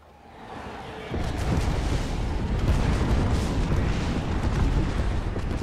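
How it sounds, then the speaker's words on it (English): A rolling airstrike in Apex Legends builds into a sustained, loud barrage of deep explosions and booms, rumbling continuously after a sudden onset. "Signaling an airstrike."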